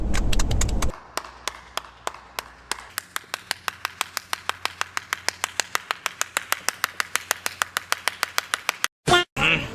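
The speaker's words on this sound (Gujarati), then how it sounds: "જોરદાર તાળીઓથી સ્વાગત અને અભિવાદન કરીએ પરમભાઈનું" Applause welcoming a tour guide named Parambhai at the start of a road trip from Porbandar to Bhuj: a steady run of crisp, close handclaps, about four or five per second, lasting most of the clip, with a short burst of other noise near the end.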